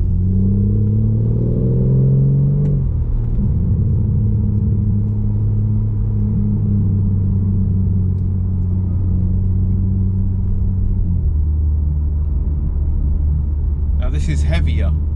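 A BMW M4 Competition's engine and exhaust give a steady low rumble with a rise in revs early on, then a deep burble that settles lower near the end. The sound is close and continuous, with talking over it.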